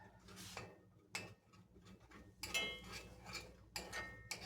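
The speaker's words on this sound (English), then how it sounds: "I'm just going to scramble up 1 egg for him today. I'm going to use this spoon." A metal spoon scrambles a single raw egg in a dish, quick scraping clinks in short bursts with pauses between, close and quiet with no talking.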